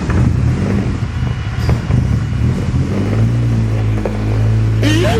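A Honda CRX with a B18 engine cranks, catches and settles into a deep, steady idling rumble with a revving edge, loud and close throughout.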